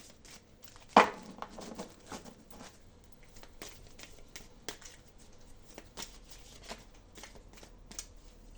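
A deck of oracle cards is shuffled by hand in quiet, close-up riffles and soft slaps, with one sharper flick near the start followed by a steady run of light papery patters.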